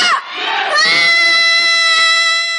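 Cadets at a 2001 Korean military academy basic training let out a loud, sustained group battle cry, a short shout and then a long held chorus of many voices, close and forceful.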